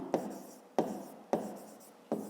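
Handwriting a maths solution on paper: four soft taps and scratchy strokes of a pen, evenly spaced and quiet, close up in a still room.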